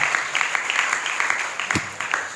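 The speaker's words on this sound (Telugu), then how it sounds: "దేవుని యందు గట్టిగా చప్పట్లు కూడా దేవుని మహిమపరుద్దాం" A congregation applauds at a Christmas Vigil Mass in a Catholic church, a steady, close wash of clapping that runs evenly for about two seconds, with a single sharper knock near the end.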